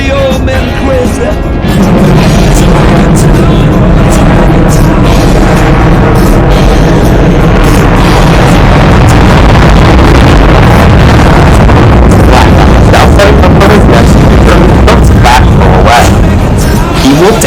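A Boeing F/A-18 Super Hornet roars overhead at the Edwards Skyfest airshow, a loud, continuous, heavily clipped jet rumble with wind buffeting that swells and holds for the whole stretch, with a crowd and announcer faintly beneath.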